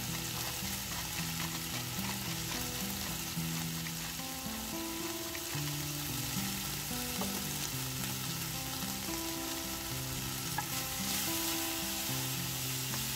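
Food stir-fried in a pan with oyster sauce and pepper, a steady loud sizzle and crackle of frying throughout with scraping as it is turned over, close and continuous.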